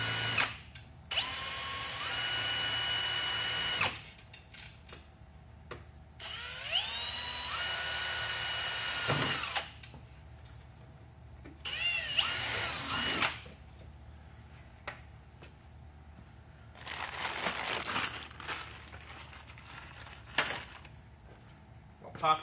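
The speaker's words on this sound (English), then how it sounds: "Time to drill a hole for the second one." A power drill whirs in several bursts, revving up and winding down between short pauses, close and loud, with small clicks and handling noises in the gaps.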